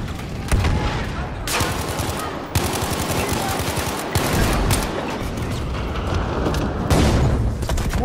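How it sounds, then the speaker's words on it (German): Heavy bursts of gunfire and booming blasts overlap in a Battlefield V multiplayer battle on Iwo Jima, loud and chaotic, with a large explosion rumbling near the end. "Boah, fette Bombe, oder?"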